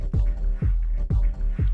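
Metallic synth tone blending bell and horn character, washed in reverb, strikes four times in a steady repeating pulse with long decaying tails, loud and alone in a dubby techno groove.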